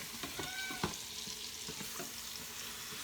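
Meat browning in an Instant Pot, a soft steady sizzle with a few light stirring clicks and scrapes, fairly faint.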